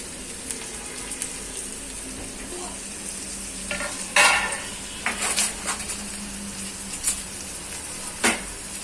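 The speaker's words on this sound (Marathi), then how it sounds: "हे चांगलं परतून घेऊया." Cabbage with gram flour, herbs and curry leaves is sautéed in a pan, a low steady sizzle with intermittent scraping and clinking strokes of a spatula against the pan, and no talking.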